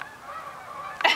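Geese honking: a close, nasal honk drawn out over about a second, ending in a sharper burst.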